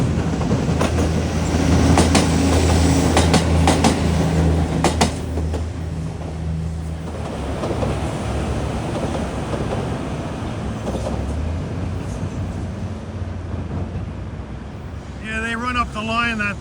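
An Airport Express train passes in Toronto with a loud rumbling roar and rhythmic wheel clatter that gradually eases off, ending with a brief high chirping at the close.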